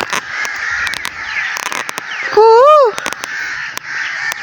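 Black crows cawing outdoors near a large canal, one loud, close, drawn-out harsh caw standing out over a steady wash of other birdsong and distant chirping.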